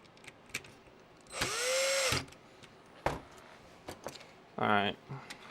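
Small screwdriver driving screws into a vintage Nintendo Game Boy DMG housing during repair: faint, close, scattered clicks and ticks with a couple of short louder whirring bursts, quiet background.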